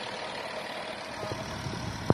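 An Audi A6 with a 3.0-litre engine, manual gearbox and about 239 horsepower, showing 360,000 km, idles with a steady low hum and a faint knock near the end, alone without talk.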